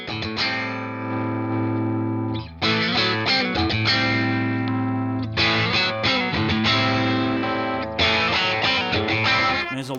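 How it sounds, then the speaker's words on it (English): A Fender Player Plus Telecaster electric guitar played through heavy distortion, sustained chords and riffs ringing loud and continuous with brief breaks near 2.5 and 8 seconds, alone without voices. "you've heard the guitar on its own, both clean and dirty"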